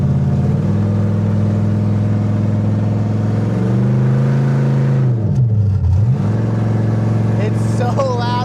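A Chevy S10 engine managed by a Holley Terminator X, running with no exhaust fitted, roars loud and close, with steady harmonic drone, a couple of rev swells and a dip, and talk over it near the end.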